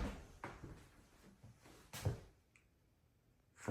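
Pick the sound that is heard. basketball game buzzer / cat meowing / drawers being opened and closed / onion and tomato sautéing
drawers being opened and closed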